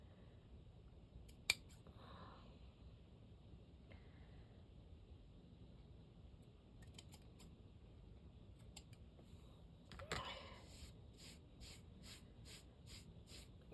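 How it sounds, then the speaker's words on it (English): Scissors trimming a stray string and a fabric edge, heard as a few faint, sharp snips and creaks spread out over a quiet background, with no talking. "Cut off that little string I see there. And I'll cut a little bit more off the edge here."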